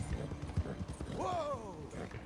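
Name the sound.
horse hooves in Red Dead Redemption 2 video game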